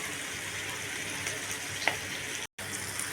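Potatoes fry in a pan with a faint, steady sizzle and crackle, with one brief sharp pop and a short gap of silence.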